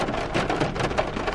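Steady rain pours down outdoors, a dense, even hiss of drops striking the ground that fills the whole short stretch with no pauses.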